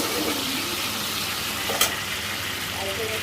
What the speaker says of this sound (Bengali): এইবার আমরা এটাকে ভালো করে নাড়াচাড়া দিয়ে একটু ভেজে নেব